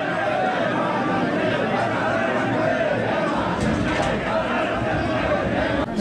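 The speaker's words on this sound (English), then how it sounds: "I've totally lost Ranjan in this crowd." A large crowd chatters at a Himalayan temple festival procession in Gangotri, India, a dense steady wash of overlapping voices surrounding the listener throughout.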